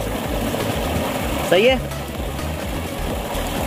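A tube well water pump motor runs with a steady low mechanical hum close by, as people talk over it and a brief whistling, rising tone cuts through midway.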